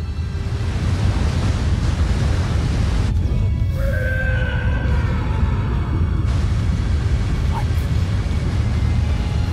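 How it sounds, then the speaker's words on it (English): A water tornado whipping up in the Dragon Ball Super: Broly movie, a steady loud roaring rush like wind-driven surf that swells midway with whistling tones over it. "Like a water tornado."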